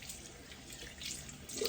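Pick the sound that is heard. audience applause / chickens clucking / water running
water running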